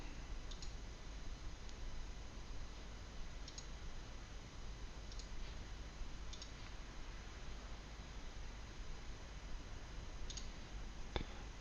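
Mouse clicks on a web admin page while verifying a domain for Office 365 federation: a few sparse, faint, isolated clicks spaced several seconds apart over steady low background hiss, with no talking.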